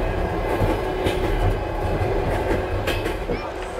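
An overnight passenger train in Uzbekistan rolls along the rails, its carriage giving off a steady loud rumble with rhythmic clatter and faint squeaks throughout.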